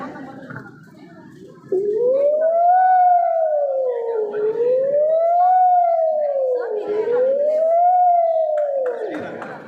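A student mimicry performer imitates a wailing fire engine siren, rising and falling in three long smooth sweeps, loud and close.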